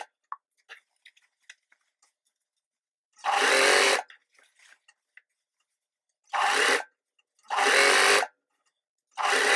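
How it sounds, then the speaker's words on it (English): Sewing machine running a 1 cm seam allowance around a curved fabric edge for culottes, in three bursts of about a second each separated by pauses with small handling rustles. "I'm just going to sew my 1 centimetre seam allowance all the way around the curve"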